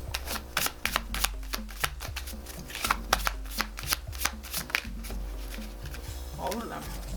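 Mini oracle cards are shuffled by hand in a series of quick, crisp riffling slaps and flicks repeating at close range, with a person speaking softly now and then.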